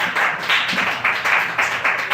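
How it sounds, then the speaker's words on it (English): Audience at an open mic comedy night clapping in a short, close burst of applause, with pulsing bursts of clapping that hold at a steady loudness. "Clap it up for East Luca"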